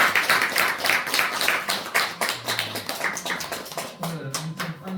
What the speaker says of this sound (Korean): 우리 이정희 목사님께 감사의 박수